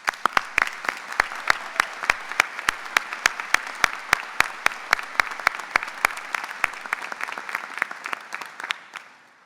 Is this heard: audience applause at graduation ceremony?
yes